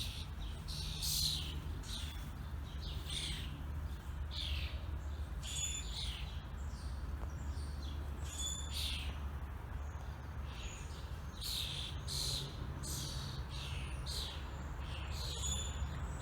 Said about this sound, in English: I believe that it's a family of robins.